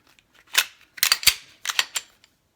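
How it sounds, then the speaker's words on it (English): Glock semi-auto pistol being reassembled after cleaning, the slide lined up on its rails: a few sharp metallic clicks and snaps close by, clustered in short bursts with quiet gaps. "Put it back together. Put those rails, line it up."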